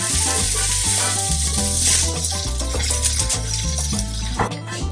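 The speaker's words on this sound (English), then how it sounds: "we're gonna put the garlic directly on here, like that. Kind of gonna let them toast up. Getting toasty." Garlic toasting in a hot pan gives a steady, close sizzle that runs the whole time beneath louder background music.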